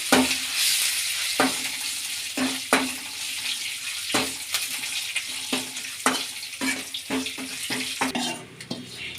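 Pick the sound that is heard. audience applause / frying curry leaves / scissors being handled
frying curry leaves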